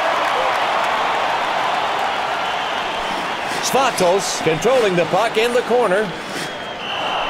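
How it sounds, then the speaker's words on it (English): A steady crowd roar of hockey fans fills an arena in the NHL 2K7 video game on PlayStation 3, a dense, continuous wash that holds loud throughout while a play-by-play commentator talks over it in the second half. "Listen to these fans. They're cheering their team on."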